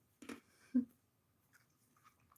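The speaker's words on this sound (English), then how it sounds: "Just crunching on some ice there." Someone crunches on ice close to the microphone, giving two short crisp bites in quick succession and then quiet chewing.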